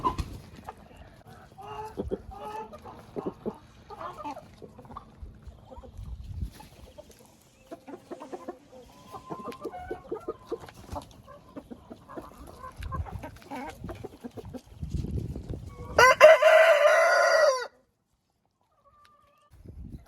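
Laying hens cluck and murmur quietly close by, then one bursts into a loud, harsh squawking call for about a second before abrupt silence.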